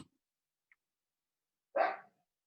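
A single short dog bark, fairly close and loud, after near silence with a faint click beforehand.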